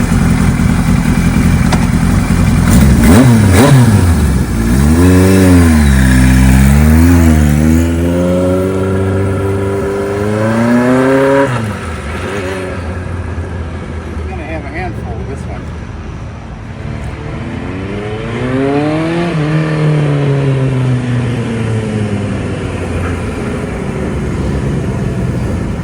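A 1975 Kawasaki Z1 900 motorcycle runs up close, its engine revving and rising and falling in repeated surges between lower idling stretches, loud and alone throughout.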